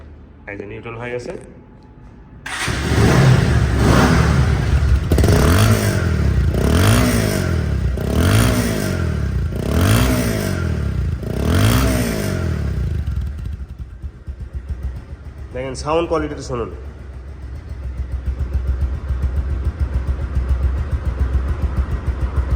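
A 2024 Bajaj Pulsar double disk ABS motorcycle idles in neutral, then its engine is blipped in a rhythmic series of loud revs, settling back to a close, steady idle while someone talks.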